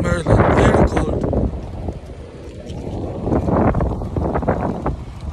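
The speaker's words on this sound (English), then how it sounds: "It's very windy." Strong cold wind gusting outdoors near a Maryland state office building in Baltimore, a loud rushing roar that swells and eases over several seconds, with buffeting on the microphone.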